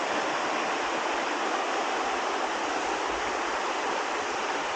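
Creek water rushes and flows in a steady, dense broadband wash, loud and close with no pauses, and no voices over it.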